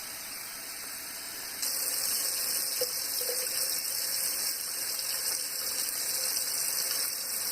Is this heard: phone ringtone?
no